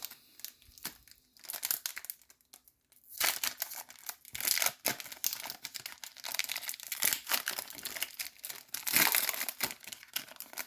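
A Pokémon card pack wrapper is torn open and crinkled, quiet at first, then dense, close crackling and crumpling of foil plastic that runs for several seconds.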